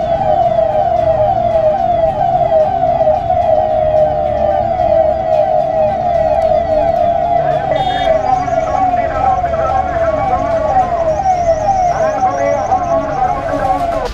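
A police siren wails steadily and loudly in a continuous repeating rise-and-fall during a flag march, close and prominent, with voices talking over it.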